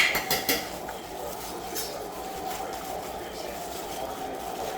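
A spoon clinks and scrapes against a bowl while albacore tuna salad is stirred, a cluster of sharp knocks at the start giving way to steady, close mixing noise.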